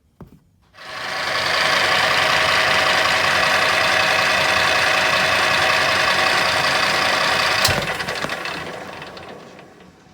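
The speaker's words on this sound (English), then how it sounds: "I thought I'd bore one of these out on the lathe and put it on the axle" A lathe boring out a hardened steel gear for a go-kart axle gives a steady, loud machining whir and rattle that runs for several seconds, then tapers off, with no talking.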